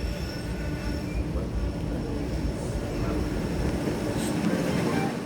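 A passing train rumbles and clatters steadily close by, with broad rail and wheel noise filling the whole stretch and a faint squeal of wheels on track.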